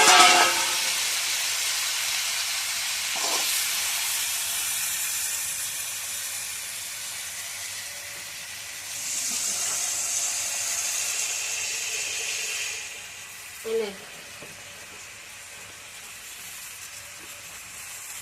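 Fish frying in a wok over a fire, a soft continuous hiss and sizzle that swells at moments, with a few faint clinks and knocks, fairly quiet throughout.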